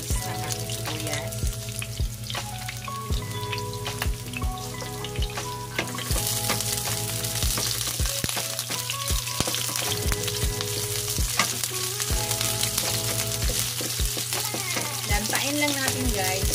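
Sliced onions sauté in a pan for Filipino ginisang sitaw with pork, giving a steady, close sizzle and frying crackle that runs throughout with occasional stirring clinks.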